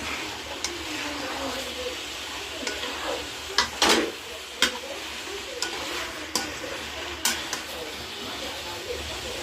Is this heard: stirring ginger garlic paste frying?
yes